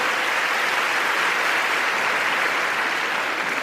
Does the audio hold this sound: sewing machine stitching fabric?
no